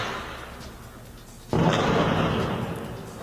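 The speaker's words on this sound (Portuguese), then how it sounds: "Dá para ouvir os tiros e também as explosões, Everton." At night, a distant rumbling outdoor backdrop suddenly breaks into a heavy boom of gunfire and explosions, leaving a loud, sustained roar that slowly fades.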